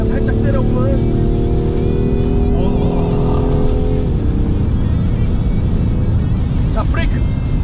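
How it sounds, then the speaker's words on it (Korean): A BMW 840d Gran Coupe diesel pulling hard at full throttle, loud steady engine and road roar inside the cabin with a rising tone, a voice talking over it. "공간에서 풀악셀을 잠깐 살짝 때려보면"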